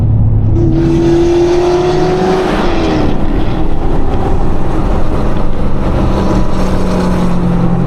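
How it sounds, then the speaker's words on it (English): A Chevrolet Corvette C6 Z06 drives nearby on the road, its engine a steady loud drone with a rising rev early on, heard through the interior of another car in traffic. "That's a C6 Z06."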